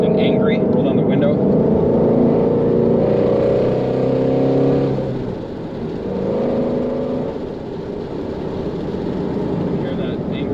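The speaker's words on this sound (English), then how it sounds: "Hear that angry motor." A 2020 Ford Mustang Shelby GT350R's 5-liter engine revs with the exhaust in sport mode, a loud, continuous rough growl heard from inside the car, swelling and easing over several seconds without talk.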